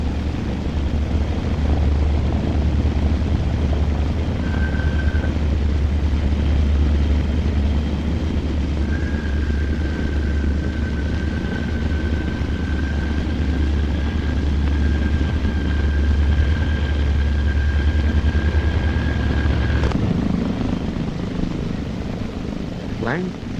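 An aircraft engine drones steadily and loudly near a runway in Tehran, with a faint tone running through the middle and no break in the roar.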